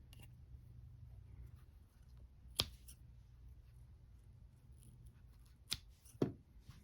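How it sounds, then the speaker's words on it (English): Scissors snip yarn tails on a crocheted amigurumi toy: three sharp, close cuts spaced a few seconds apart, isolated against a quiet room hum. "And then you can just cut those tails."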